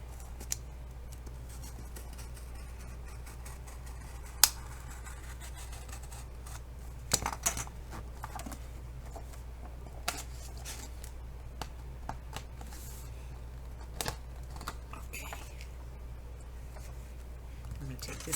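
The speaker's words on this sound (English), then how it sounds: "we're going to cut those threads" Scissors snip the binding threads of a handmade dragon folio, a few faint, sparse cuts and small clicks spread across a quiet, near stretch with light paper handling.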